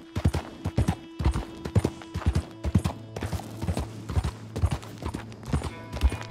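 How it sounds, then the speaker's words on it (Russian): Wild horses gallop in the Red Dead Redemption 2 video game, a steady, close clip-clop of hooves in quick rhythm with a brief neigh, over a low sustained in-game hum. "дикие лошади"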